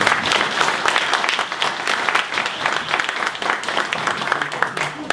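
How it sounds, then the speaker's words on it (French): Warm applause in a hall at a Morocco-in-Canada launch evening, many hands clapping steadily and fairly loudly for about five seconds, with faint voices murmuring underneath. "je demande d'applaudir. Chaleureusement."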